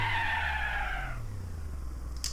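A car brakes hard in a 2004 racing video game, giving a loud sustained tire skid and squeal over engine drone that fades after about a second, alone without speech.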